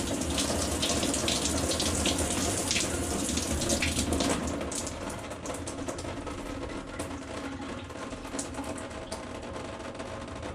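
Water runs steadily from a Moen shower and tub valve, a broad continuous hiss and splash that eases slightly partway through, with no talking.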